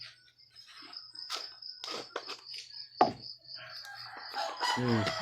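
Roosters crow intermittently at a distance amid chirping insects and scattered bird calls, with a louder crow rising near the end.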